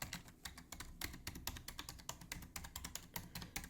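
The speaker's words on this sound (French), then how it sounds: "Un bruit qui se rapproche énormément du clavier mécanique" Rapid, clicky typing on a budget gaming keyboard that sounds close to a mechanical one, dense irregular keystrokes heard up close and quiet with no talking.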